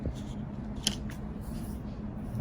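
Cutting a piece of styrene plastic for a toy-building project gives a single faint, sharp snip against quiet room noise.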